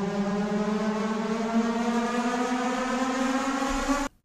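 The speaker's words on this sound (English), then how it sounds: "And a siren for an extra decorative effect." A sustained siren layered into a cinematic music track, a loud steady tone rich in harmonics that drones for about four seconds and then cuts off abruptly.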